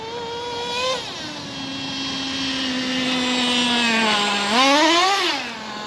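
A Traxxas T-Maxx nitro RC truck running a 20% nitro fuel mix, its small engine whining high, dropping to a long steady drone, then surging twice in sharp revs, close and loud.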